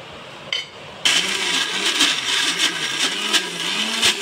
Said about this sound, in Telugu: మిక్సీ జార్లో వేసుకొని